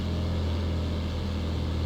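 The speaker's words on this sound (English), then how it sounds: "the engine's still cutting out" Cessna 150 engine in the FlightGear flight simulator, a steady continuous low drone filling the whole stretch at even loudness, with no voices.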